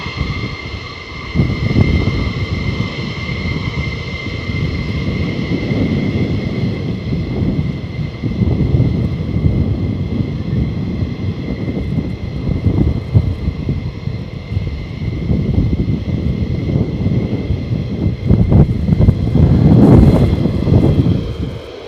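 F-15 Strike Eagle fighter jet flying at RAF Lakenheath, a sustained loud rumbling engine roar with wind buffeting, swelling toward the end as the jet passes.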